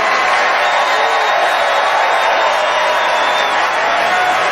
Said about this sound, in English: Everybody, please join me in giving Meryl Streep a totally undeserved round of applause